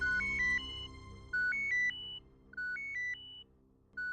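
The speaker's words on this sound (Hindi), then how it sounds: "कमिश्नर साहब का फोन है।" A telephone ringtone in a Hindi TV serial scene, a call from the commissioner: a bright electronic melody of rising beeps that repeats in three clear bursts with short pauses between, heard alone.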